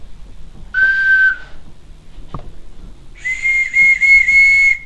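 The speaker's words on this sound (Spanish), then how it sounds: "Estos son unos silbatos." Two shrill blasts from ceramic whistles, a short one followed by a longer wavering one after a brief pause, with a soft knock between them.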